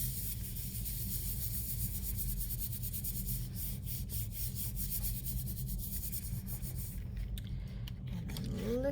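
Paper being rubbed by hand over a stamped print to transfer the image for a radial balanced hearts design, a steady soft scratchy friction continuing throughout with low hum underneath.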